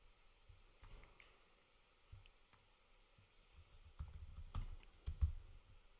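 Light clicking of a computer keyboard while text is edited, sparse keystrokes at first, then a denser burst of taps near the end, quiet and close with no talking.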